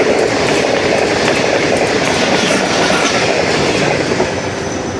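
A Pak Business Express passenger train rushes past in a steady, loud roar of rolling wheels and rail clatter, very close, with no voices over it.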